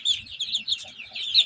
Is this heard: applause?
no